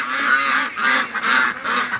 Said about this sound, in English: let's let the ducks out.